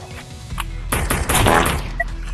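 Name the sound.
gunshots in the video game Animal Rivals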